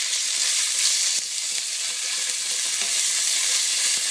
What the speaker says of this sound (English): We're just going to fry that up for like about 2 minutes till that onion gets just a little soft